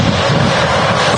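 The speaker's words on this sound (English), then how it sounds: "This Embraer 190 has been in the air for 53 minutes" An arriving Embraer 190 jet at Manchester Airport gives a loud, steady broadband roar mixed with wind buffeting on the microphone, continuous over a brief moment.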